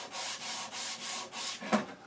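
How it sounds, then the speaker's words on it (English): Rhythmic back-and-forth rasping of sandpaper rubbed by hand on a wooden pen blank, about five even strokes close up, ending with a small knock. "a little bit of hand sanding never hurt anybody."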